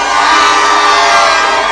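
Large outdoor political rally crowd in Kakamega, Kenya, cheering, whooping and applauding in a loud, sustained roar of many voices and hands with no pauses.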